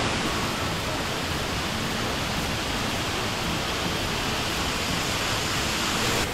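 Leiyin waterfall, a multi-tiered fall on the Zhukeng Creek trail in Meishan, pours in a dense, steady roar that fills the whole clip evenly, close and loud with no voices.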